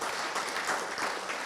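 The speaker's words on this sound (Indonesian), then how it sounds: "Berikan tepuk tangan yang meriah untuk Tuhan." A church congregation at a Sunday morning service claps together for God, a dense, lively burst of applause filling the room, loud and continuous with no talk over it.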